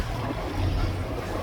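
A sailboat motors along under engine power, giving a short, steady low droning hum mixed with wind and water wash, close and constant throughout.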